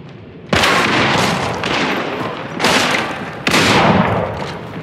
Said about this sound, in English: They're shooting at it.